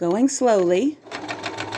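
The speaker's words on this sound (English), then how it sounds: "Let's take it over to our sewing machine." Sewing machine stitching quilt pieces together, a steady motor whir with rapid needle ticking following a short stretch of speech.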